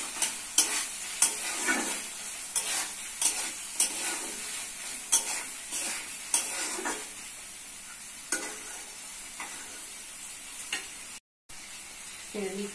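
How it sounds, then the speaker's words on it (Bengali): Chicken with bay leaf stir-fried in a pan, steady sizzling broken by repeated rhythmic scrapes and stirring strokes of a spatula, close and fairly loud, with a brief gap near the end. "দিচ্ছি মাংস, ভালো করে কষতে হবে"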